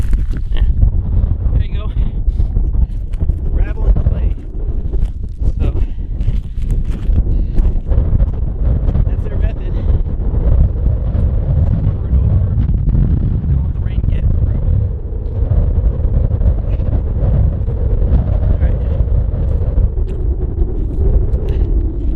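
Strong gusts buffet the microphone at the abandoned Callahan Mine, a loud, rumbling low roar that swells and eases throughout, with a voice talking intermittently under the wind.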